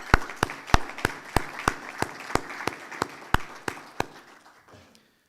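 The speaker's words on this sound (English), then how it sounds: "I hope you join me in giving them a round of applause." An audience at the 2016 Ontario One Call annual general meeting applauds the staff: a run of crisp, evenly paced claps stands out above a softer wash of clapping, then the sound tapers off to quiet.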